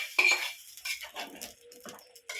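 A spoon stirs pea khara pongal with fresh coriander in a cooking pot, giving a run of close metallic clinks and scrapes against the pot's sides, fairly quiet with no talking.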